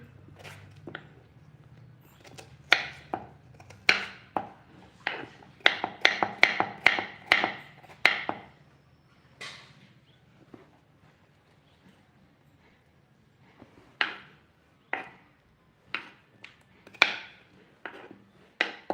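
A knife finely chops potatoes on a board in a home kitchen, with sharp, close knocks that come in quick rhythmic bursts, pause for several seconds, then return in sparser strokes, with no talking.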